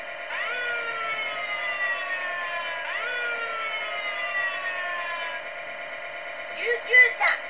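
An Anpanman Kids Driver toy's ambulance siren wails in repeated rising-and-falling electronic sweeps, close and steady, ending with a few short chirps.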